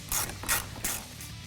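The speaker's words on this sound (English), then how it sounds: "Reinstall the 2 bolts up top." A ratchet tightening the top headlight bolts on a Ford F-150 during a projector headlight install: three or four quick, close clicking strokes in an even rhythm, crisp and fairly quiet.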